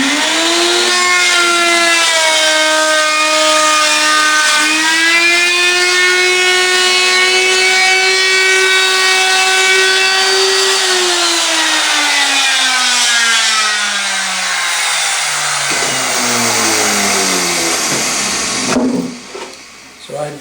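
A power trimming tool cuts the overhanging edge of a wooden Smartwood harp box, whining loudly and steadily with a shifting motor pitch for about eighteen seconds before winding down.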